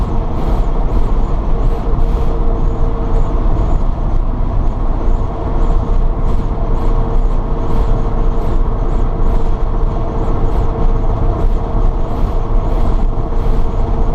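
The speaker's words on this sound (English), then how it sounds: "Transaxle's a little noisy, not excessive, but you can hear it." Electric Porsche 912 conversion cruising at highway speed, a steady loud road and drivetrain rumble with a faint transaxle whine running underneath, continuous with no talk.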